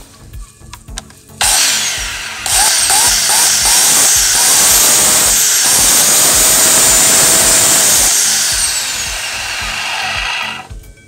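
A Huter ELS200p electric chainsaw starts up with a sharp whine and runs loud and steady for several seconds before winding down.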